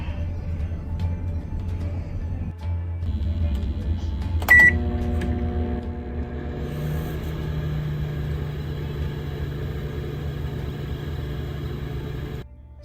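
A microwave oven runs at full power with a steady low hum, punctuated by a short beep and click partway through before settling into a constant electrical drone.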